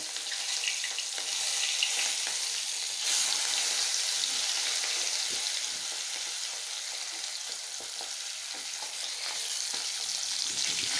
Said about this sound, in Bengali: এই দেখো ভাজা করে নিচ্ছি।